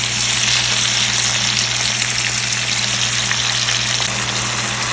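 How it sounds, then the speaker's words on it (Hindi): Tomatoes fry in a pan for butter paneer masala, giving a steady, dense sizzle that hisses evenly from start to finish under a low electrical hum, with no talking. "अब जी इसमें शामिल करेंगे टमाटर। और थोड़ा सा भूनेंगे।"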